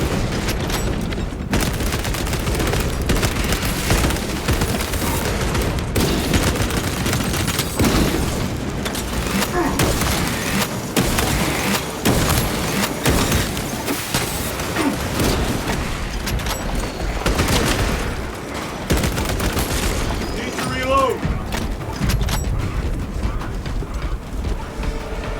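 Dense battlefield gunfire and booming frag grenade explosions from the Warhammer 40k Space Marine 2 video game, loud and continuous with overlapping shots and blasts throughout, with in-game voices mixed in.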